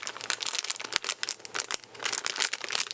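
A hand rummages in a crinkly plastic bag of parts from a small bench-top eurorack power supply kit, giving close, loud, irregular crackling and rustling bursts throughout.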